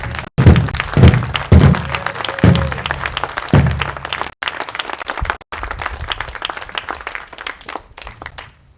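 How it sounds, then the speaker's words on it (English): An audience at a YMCA alumni national service project celebration and dedication claps in sustained applause, loud and close, with several sharp thumps early on and the clapping thinning toward the end. "George Painter, a nice round of applause."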